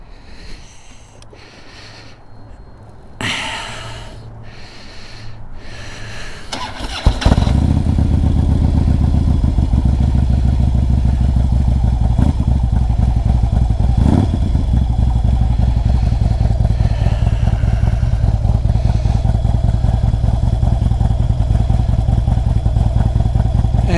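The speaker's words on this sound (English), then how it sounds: "let me let the bike warm up for a couple minutes here" A motorcycle engine starts after a few handling clatters and thumps, then settles into a loud, steady idle as it warms up close by, running evenly for the rest of the stretch.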